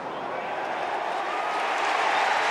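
A large stadium crowd at an AFL qualifying final between Hawthorn and the Western Bulldogs roars steadily after a goal in a broad, continuous wash of cheering that builds slightly louder toward the end.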